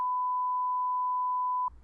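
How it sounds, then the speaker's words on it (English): A steady, clear electronic dial tone holds at one pitch for about 1.7 seconds, loud and alone, then cuts off abruptly into a low rumble. "You will hear a brief dial tone"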